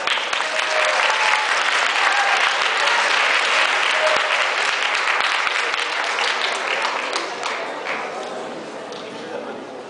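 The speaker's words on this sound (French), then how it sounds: "On peut les applaudir bien fort." Loud, sustained applause from an audience at a One Piece cosplay stage event, dense clapping that slowly thins and fades toward the end.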